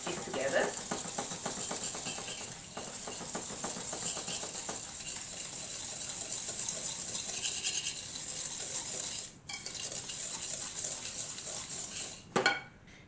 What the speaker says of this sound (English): whisk this together.